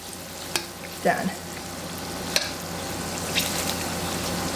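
Pork loin sizzles steadily in a hot pan while being cooked for Singapore chow mein, a constant crackling hiss with a few sharper pops and stirring scrapes close by.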